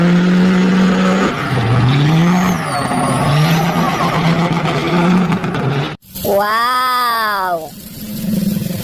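A toy trailer truck cab's electronic engine effect plays loud and close, a buzzy revving drone that shifts pitch, followed after a brief break by rising and falling tonal sweeps like skidding tires.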